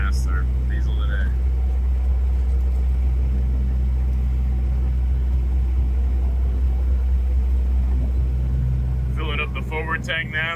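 Offshore sailboat running under diesel engine power with no wind, a loud steady low drone throughout, close and constant, with brief voices talking over it near the start and end.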